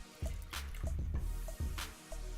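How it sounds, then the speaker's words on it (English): Half and half is poured into a buttery roux paste for a mac and cheese cream sauce, giving a close, wet trickling and splashing with a few soft drips over the pour. "you want to go ahead and pour in 1 cup of your half and half"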